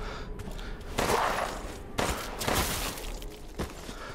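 Gunfire in the video game Resident Evil Village, a few loud shots and bursts spaced about a second apart over a busy background of game noise.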